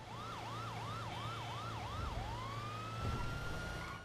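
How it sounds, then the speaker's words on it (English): A police car siren in GTA Online whoops in quick repeating rising cycles, then switches to a long steady wail, loud and continuous over a low vehicle engine drone. "I love how you can change it, like what it sounds like"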